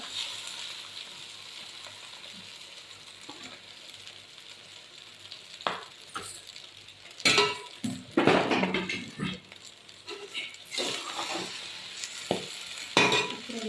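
Noodles stir-fried in a pan give a low, steady sizzle, broken by scattered scraping and clattering strokes of a utensil against the pan.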